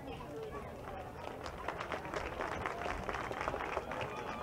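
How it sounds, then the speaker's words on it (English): A crowd in the stands at a South Dakota high school football game between Todd County and St. Thomas More applauds the game officials, with dense, steady clapping and cheering that swells slightly and holds for several seconds. "Please give them a round of applause."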